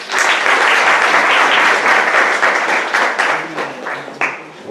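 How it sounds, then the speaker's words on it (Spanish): Audience applause at a medical talk on gut microbiota in cancer patients, a dense, loud wash of many hands clapping that swells at once and then thins and tapers toward the end. "Tenemos un fuerte aplauso."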